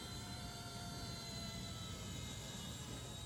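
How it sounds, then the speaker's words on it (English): An Eachine E129 four-axis RC helicopter hovers outdoors in light wind, giving a faint steady whine and buzz with no break. "this is a 4-axis helicopter, so it's not very hard to fly at least"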